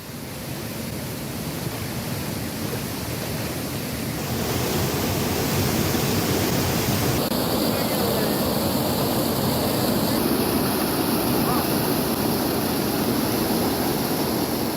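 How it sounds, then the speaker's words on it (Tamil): Chinna Suruli falls flooding after heavy rain, a loud, dense, unbroken roar of rushing water that swells slightly partway through and stays constant, with no voices. "சின்ன சுருளி அருவியில் திடீர் வெள்ளப்பெருக்கு"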